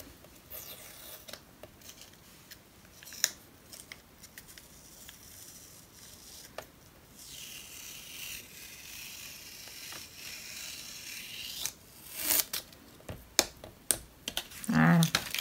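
Strips of adhesive tape are pulled slowly off inked paper on a work table, producing scattered faint ticks and then a longer, louder tearing rasp with a few sharp crackles near the end.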